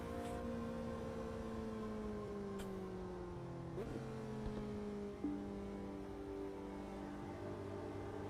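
Engine of a McLaren race car in a sim racing game, revving steadily with gear shifts and pitch drops as it brakes into a corner, loud and continuous with no talk.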